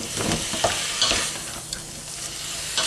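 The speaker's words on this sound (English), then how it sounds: "So I'm just going to continue to fry the red pepper" Red pepper frying in a pan, a constant crackling sizzle broken by repeated scraping stirs of a utensil, close and fairly loud, no talk.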